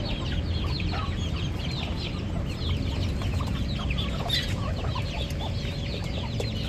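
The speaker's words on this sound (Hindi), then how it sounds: "5 मुर्गियाँ बैठी हुई हैं।" Several hens cluck and chatter in a home backyard coop, a busy, continuous chorus of overlapping clucks heard close over a steady background hum.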